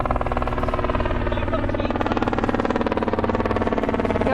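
A helicopter flies overhead with a loud, steady, rapid rotor chop that pulses evenly and fills the whole clip without letup.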